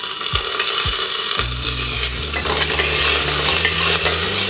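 Curry leaves crackling and frying in hot oil for a Venn Pongal tempering, loud and close, with constant stirring scrapes over the sizzle and a low mechanical hum underneath.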